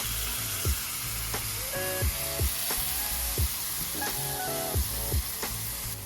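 Smash burger patties sizzle steadily on a Blackstone flat-top griddle, with a spatula scraping across the hot steel in repeated short strokes roughly every second, close and fairly loud, without any talk.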